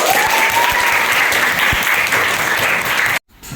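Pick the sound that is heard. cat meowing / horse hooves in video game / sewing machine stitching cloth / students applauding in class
students applauding in class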